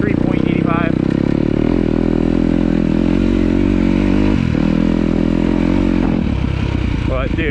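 A 2026 Kawasaki KX250 dirt bike on its break-in day runs loud and close, its engine holding a steady roar with brief dips and revs throughout.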